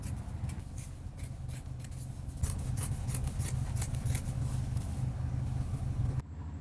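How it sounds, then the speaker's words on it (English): Scissors steadily cut through fabric for the back piece of plus-size cargo shorts, a continuous close rasping crunch with regular snips, over a low background rumble and no talking. "You carefully cut out the back piece."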